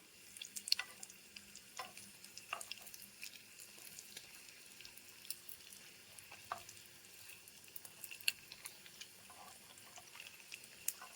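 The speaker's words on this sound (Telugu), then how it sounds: "కొద్దిగా బ్రౌనిష్గా వచ్చేంత వరకు వేయించుతాను ఎక్కువ సమయం కూడా తీసుకోదండి ఎండు చేప ఫ్రైకి కొంత సమయమే ఉంటుంది" Dried fish fries in a pan with a quiet, soft crackle and a few light scraping clicks, fairly faint and with no voices.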